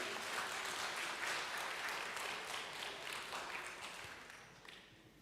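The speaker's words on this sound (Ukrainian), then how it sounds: "А зараз запрошуємо під ваші оплески нашого євангелиста Біла." Audience applause in a hall at an evangelistic gathering in Ukraine, welcoming the evangelist to the stage: dense, steady clapping from a large crowd that holds for about five seconds and then gradually thins and fades.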